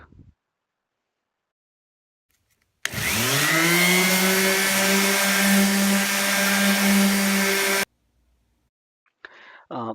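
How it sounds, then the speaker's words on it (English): A power sander or grinder on wooden stair steps whirs steadily at a high, droning pitch for about five seconds, starting and stopping abruptly, with brief faint sounds around it. "Next, we start sanding or grinding the steps as well as the riser."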